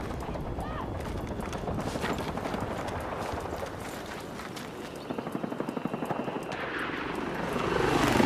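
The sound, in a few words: enemy helicopter flying overhead in video game Battlefield 6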